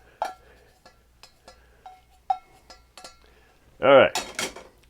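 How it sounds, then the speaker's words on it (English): Melted butter mixed into batter in a bowl, a spoon or whisk clinking sharply against the bowl in scattered taps, then a brief voice and a final clatter. "don't forget to mix in the melted butter"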